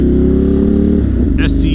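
A motorcycle fitted with an SC aftermarket exhaust idles and revs loudly up close, a deep throbbing engine note that shifts pitch near the end, while a voice speaks over it.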